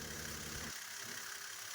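A car engine idles faintly alongside its alternator, which has a noisy bearing, in a car with a charging problem and a discharged battery. A low hum drops away after under a second, leaving a steady high hiss.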